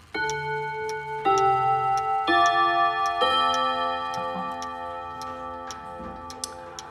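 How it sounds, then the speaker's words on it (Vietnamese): A decorative ODO wall clock with a painted dial and black steel gong rods strikes the Westminster melody, clear ringing tones struck one after another in a slow, even sequence, each note sustaining and fading, with no talking. "Và bây giờ em sẽ thử luôn cái tiếng chuông để cho các bác thưởng thức."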